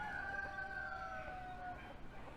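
A rooster crows nearby in one long drawn-out call that lasts about two seconds over quiet farmyard background noise.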